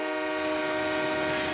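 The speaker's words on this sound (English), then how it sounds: "Handlers are waiting for the train because Rungis even has a station." Train pulling into the rail station at Rungis wholesale food market near Paris, a steady loud roar of rolling cars layered with sustained horn-like tones throughout, no voices.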